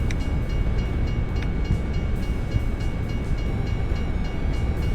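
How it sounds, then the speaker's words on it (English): A very long train pulled by five locomotives rolls past in American Truck Simulator, a loud, steady rumble of rail noise with faint clanking, continuous and close. "Oh god, 5 locomotives. Okay, this is going to be a very long train."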